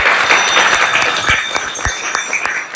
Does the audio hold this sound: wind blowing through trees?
no